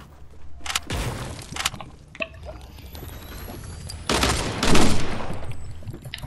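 Gunfire in a first-person shooter: several separated shots early on, then a heavier close volley toward the end, with a faint thin whine running through the quieter middle.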